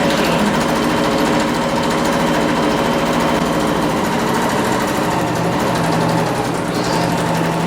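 A sewing machine stitches a tote bag at a long stitch length, running loud and steady with a continuous close motor whir and rapid needle rhythm throughout, no voices.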